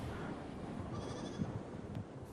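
Feral goats bleating on top of an island, a few short calls rising over steady wind-like background noise in the open.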